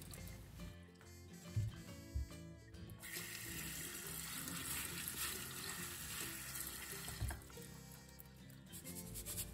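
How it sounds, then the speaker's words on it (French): Soaked lentils rinsed under running tap water, a steady close splashing and trickling for several seconds with a few louder knocks against the sink or bowl, no speech. "Puis le lendemain matin, nous allons rincer nos lentilles."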